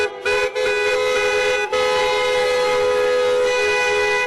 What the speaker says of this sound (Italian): sventolano le bandiere e suonano i clacson per le strade